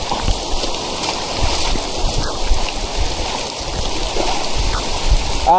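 Floodwater rushes steadily during heavy rain on a rural farm, a continuous broadband wash of water and downpour that stays loud and unbroken throughout.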